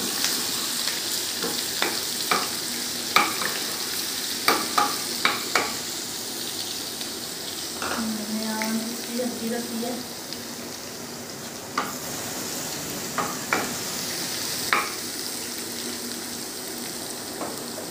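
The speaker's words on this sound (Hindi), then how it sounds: "ऑयल अच्छी तरह से गर्म हो चुका है अब इसमें लहसुन का पेस्ट डालेंगे और इसको अच्छी तरह से ब्राउन कर लेना" Garlic paste sizzles steadily in hot oil for a moong and masoor dal tadka, with a dense crackling hiss, occasional sharp spoon clicks and scrapes against the pan, and no voices.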